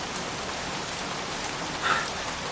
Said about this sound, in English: Goddamn rain. Soaking wet.